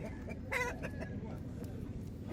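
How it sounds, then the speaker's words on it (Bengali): A large-breed fighting rooster at a Makar Sankranti rooster fight in Kharagpur gives a few short, close clucks over a steady murmur of crowd noise. "এটিও বড় জাতের মোরগ"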